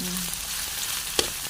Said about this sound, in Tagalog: Ginigisa ko siya guys sa bawang,